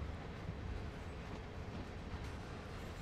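Simulated train running on the Peninsula Route in Train Sim World 2020, a steady low rumble with continuous mechanical noise throughout, fairly quiet and without talk.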